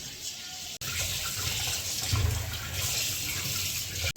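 Ritha fish is washed with salt under steadily running water from a tap, a continuous close splashing rush with brief breaks.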